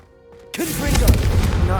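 A Confringo spell blasting candelabras in Hogwarts Legacy, one sudden loud explosive burst followed by a sustained roaring, crackling blast that fills the rest of the moment, close and full-bodied.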